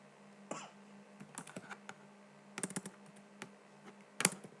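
Typing on a computer keyboard, irregular bursts of crisp key clicks close up over a quiet background hum, with short pauses between runs of keystrokes.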